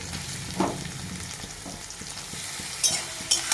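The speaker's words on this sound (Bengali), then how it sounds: "এই কষাতে কষাতেই আমি চিংড়ি মাছটা দিয়ে দেবো।" Prawns sautéing in a pan with steady oil sizzle, broken by repeated scraping stirs of a spatula and a few sharper clinks, close and fairly loud with no talking.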